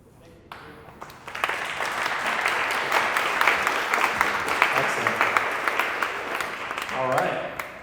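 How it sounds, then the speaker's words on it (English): An audience at a tech meetup in Austin breaks into applause, steady, fairly close clapping that builds quickly and holds for several seconds before a voice speaks at the end. "Let's give it another big round of applause to Dr. Joseph Gartner."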